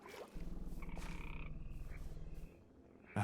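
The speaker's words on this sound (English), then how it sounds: "it's a frog." A frog croaks in the Minecraft modpack SevTech Ages, in a creepy Betweenlands area: a loud, close, rapid pulsing croak that runs for about two seconds, then a faint trailing call and a brief thump at the end.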